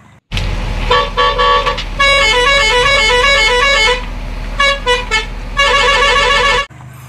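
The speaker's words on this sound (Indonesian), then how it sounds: "ini truk molen atau mixer truk" A toy cement mixer truck plays loud electronic horn and melodic toot sequences, bright repeated tone patterns in bursts with short pauses, close and alone, ending abruptly.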